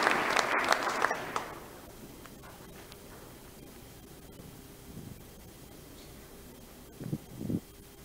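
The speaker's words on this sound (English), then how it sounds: "join me in giving these friends a round of applause at this time" A church congregation bursts into applause during a worship service, a loud dense clapping that fades after about a second and a half into quiet room noise with a few soft rustles.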